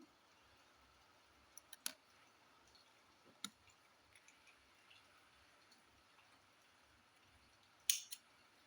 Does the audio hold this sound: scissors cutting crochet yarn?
yes